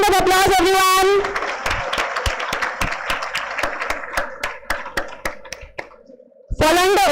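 An audience applauds conference awardees, with clapping that starts full, thins into scattered individual claps and fades out, framed by someone speaking at the start and end.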